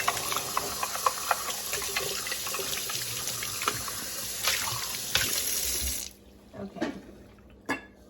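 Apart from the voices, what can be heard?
water running from a tap while washing a juicer cup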